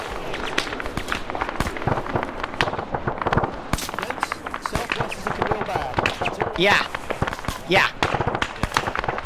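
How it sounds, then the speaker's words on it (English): Artillery explosions in a Falklands war video game: rapid crackling bursts and sharp pops scattered throughout, mixed with whistling streaks and distant booms, under ongoing voice chatter. "That artillery did nothing"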